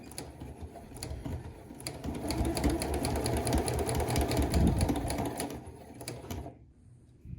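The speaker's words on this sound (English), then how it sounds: "we're just sewing down to point 2 right here" A sewing machine stitches a seam on a cardigan blazer with a fast, steady mechanical whirr and rhythmic needle clatter. It runs for about six seconds, then stops abruptly, followed by a brief small click.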